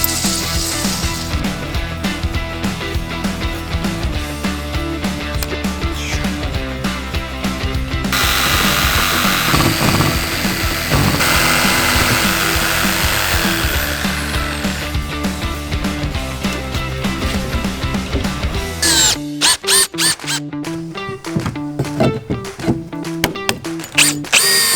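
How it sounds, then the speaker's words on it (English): Power tools cutting and fixing wood for the roof of a clouded leopard den box enclosure: a loud, sustained drill whine with ratcheting and grinding, shifting pitch, then choppy bursts of tool noise toward the end. "we've got to cut a piece of wood and finish the roof"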